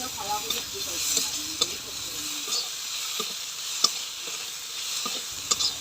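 Ground mustard, cumin and dry chili paste stirred gently in a hot pan, a soft steady sizzle with light scraping and a few sharp clicks of the spoon against the metal, close up with no talk.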